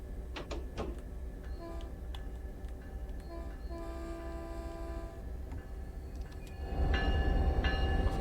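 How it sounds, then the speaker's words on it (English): A freight train in the Train Sim World video game, on the Caltrain Peninsula Corridor, rolls past with tonal horn-like hums and clanking over steady rail rumble, swelling louder toward the end. "There's got a freight train there."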